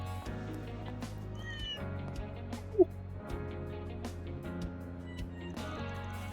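A cat in the video game Kuro no Kiseki II gives a single short, faint meow over quiet background music, with no other sounds around it.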